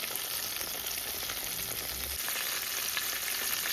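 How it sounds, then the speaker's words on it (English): Pieces of spicy fried chicken crackle in hot oil, making a loud, steady, dense sizzle that continues without a break and with no voices. "Allow that to fry."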